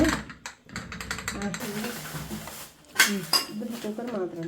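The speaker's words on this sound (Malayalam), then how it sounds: "ഇനി നമ്മൾക്ക് ഇതിനെ അങ്ങോട്ട് കുക്കർ അടച്ചിട്ട് അടുപ്പത്ത് വയ്ക്കാം" Metal pressure cooker lid clanking shut and the pot set down on an induction cooktop, a run of close clinks, clacks and a ratcheting click, with talk in the background.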